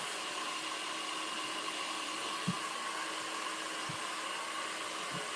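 A handheld blow dryer drying hair during a live hairstyling demonstration gives a steady, loud, breathy whir with a constant hum, close to the listener and alone, with a few faint thumps underneath.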